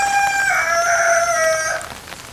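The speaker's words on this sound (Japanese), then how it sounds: "黒かしわという鳥ですね。" A Kurokashiwa rooster, a black long-crowing breed kept at a shrine in Yamaguchi, gives a single loud, drawn-out crow lasting nearly two seconds, clear and close, over quiet background.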